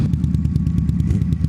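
Small motorcycle, likely a 600, riding by on an offroad outing: a loud, close, steady engine drone with rapid rhythmic clatter and thumps throughout, no voices.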